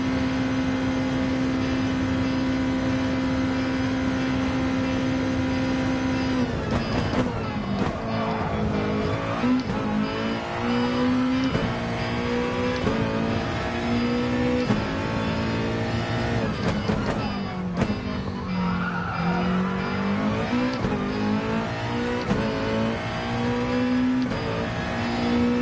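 A race car in Gran Turismo Sport at Bathurst held at full throttle, its engine droning loud and constant, pitch climbing through each gear and dropping at shifts, with no talking.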